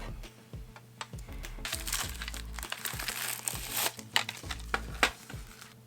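Plastic packaging of Derwent and Cretacolor colored pencils crinkles and crunches as it is pulled open, with sharp crackles and tearing bursts close up, no talking.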